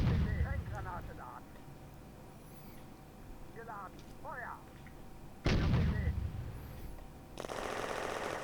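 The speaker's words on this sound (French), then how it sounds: "Là, je vois qu'il y a des obus qui partent." Artillery shells fire in a Firefight war game: sharp booming blasts and rattling bursts of gunfire, one heavy shot near the middle followed by a noisy volley at the end, with a voice talking over the battle.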